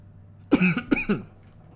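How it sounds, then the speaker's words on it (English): Two quick dry coughs from a parched mouth, close and fairly loud, one right after the other, then quiet. "start coughing due to dry mouth"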